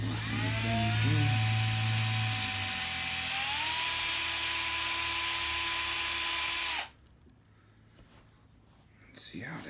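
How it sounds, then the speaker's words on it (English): A power drill whines steadily as it bores into a vintage HPI RS4 nitro RC car, its pitch rising partway through before cutting off abruptly, leaving quiet handling noises and a faint rustle. "I gotta go a little bit more with the drill for a second."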